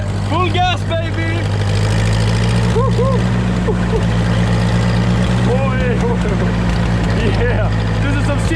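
An old Ferguson 28 horsepower tractor engine runs at full throttle during rough off-road driving, a loud, steady low drone close by, with excited voices calling out over the continuous engine noise.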